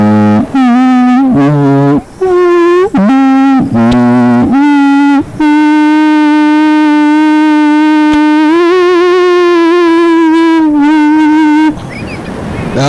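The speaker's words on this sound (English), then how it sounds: "That was the sound of the alien spaceship, the extraterrestrial spaceship." An alien spaceship sound effect with a steady, loud, sustained harmonic tone that wavers and steps in pitch over about eleven seconds, then breaks into a noisy hiss at the end.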